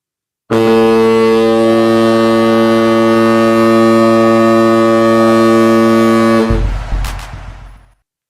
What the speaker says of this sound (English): did you enjoy the freaking foghorn?